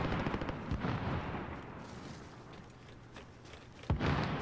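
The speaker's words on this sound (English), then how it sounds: "There's so many gunshots." Gunfire in the video game Modern Warfare: Warzone, with a dense spread of shots and bursts, a sharp louder crack near the end, fairly faint in the mix.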